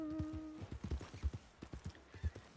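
Horse hooves clip-clop in the Red Dead Redemption 2 video game, a quick series of soft, close thuds in an irregular gait, preceded by a brief steady tone.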